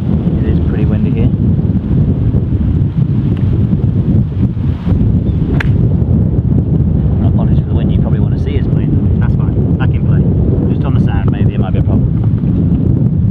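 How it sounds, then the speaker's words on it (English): Strong gusting wind buffets the microphone on a windy golf course, a loud, continuous low roar with brief swells and no clear speech. "And apologies for the wind. It is pretty windy here."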